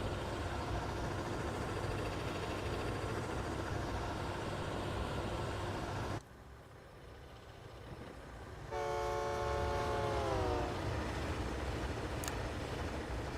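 A train horn sounds loudly in Train Simulator Classic on an East Coast line near Trenton, its steady harmonic blast bending downward in pitch as it passes, over a continuous rail rumble that briefly drops away before the horn.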